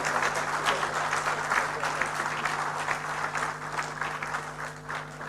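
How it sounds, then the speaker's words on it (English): An audience at a public lecture applauds steadily for several seconds, the clapping moderately loud and even, with a low hum underneath. "Ladies and gentlemen, I think we can give him another round of applause."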